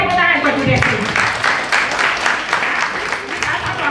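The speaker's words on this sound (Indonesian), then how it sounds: "Berikan tepuk tangan buat Bu Desi." An audience at a city health seminar in Malang claps together in a brisk, fairly close round of applause that carries on for a few seconds.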